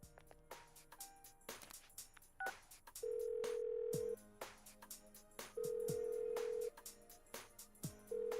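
Phone call being placed in the Persona 4 Golden video game: a short run of rapid dialing blips followed by repeated long ringback tones with pauses between them, alongside plucky game music.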